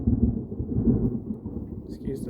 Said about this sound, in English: Excuse the thunder.